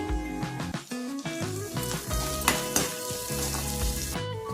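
Cauliflower Manchurian being stir-fried over a high flame, a steady close sizzle and hiss of frying running the whole time beneath a bed of music.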